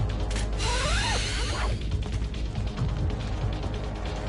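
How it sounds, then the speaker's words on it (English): A hook shot fires in Resident Evil 4 (2005, Separate Ways), giving a mechanical ratcheting launch with a rising whirring zip, then rattling clanks as the cable retracts. "And then use your hook shot to get to the upper level."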